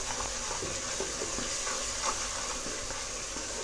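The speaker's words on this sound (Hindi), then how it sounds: "यहाँ मैं डालूँगी 1/2 चम्मच ज़ीरा और इसको अच्छी तरह से हम भूनते हैं।" Cumin seeds roasting in a pan for an aloo moongre (radish pod and potato) dish, giving a steady, close sizzling hiss with faint crackles throughout and no voice over it.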